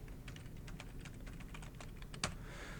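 Close, quiet clatter of typing on a computer keyboard while entering a name for a business card, a run of soft irregular keystrokes ending in one sharper tap.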